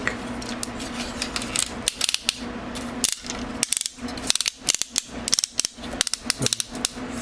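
Plastic ratchet joints click in quick irregular runs as the limbs and waist of a Megatron transforming toy figure are worked back and forth, close and crisp, with no voices.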